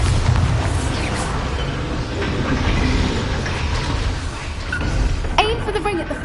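The Bombarda blasting spell goes off in Hogwarts Legacy, a loud, rumbling explosive roar that fills the scene continuously, with mechanical clanking and a voice speaking over it.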